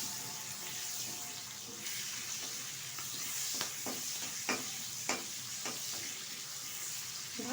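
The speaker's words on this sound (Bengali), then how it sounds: "দিয়ে দিচ্ছি এখন বেছে রাখা চিংড়ি মাছ, এটা একটু নেড়ে চেড়ে নেবো তেলের সাথে।" Prawns stirred and frying in hot oil for a Bengali shukto, a quiet continuous sizzle punctuated by several sharp spatula knocks and scrapes against the pan in the latter half.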